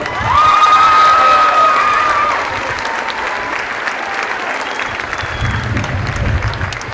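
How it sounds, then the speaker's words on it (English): Crowd applause for both teams at a senior county final, with sustained clapping and cheering from supporters, a whistle-like whoop early on, and the noise then thinning to scattered claps. "give both teams a big round of applause"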